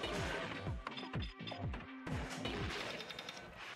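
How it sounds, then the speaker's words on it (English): Rockets fired at a boss in the video game Gato Roboto produce a rapid volley of punchy synthetic blasts and booming impacts, loud and close, tumbling over one another for a few seconds. "Gonna hit him with the rockets."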